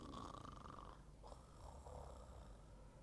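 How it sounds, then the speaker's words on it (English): Snoring from a toy bear character in a children's storytelling session, a soft, steady low rumble of breath that fills the short stretch with no talk over it. "He is, and he's snoring."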